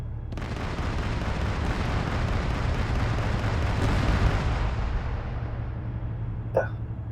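A long, heavy rumbling blast after a "fire in the hole" warning during training roars for several seconds as a dense broadband wash, then slowly fades with a faint click near the end.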